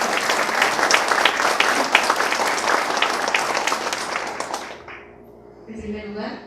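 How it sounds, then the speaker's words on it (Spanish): A crowd applauding the family at a book presentation ceremony, dense, sustained clapping that rings out strongly before thinning and fading away near the end, when a voice begins speaking. "Saludemos con un fuerte aplauso a la familia."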